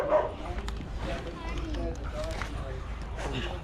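Greyhounds, ex-racing dogs, give a few yipping barks and whimpers under a person talking, close by and fairly soft.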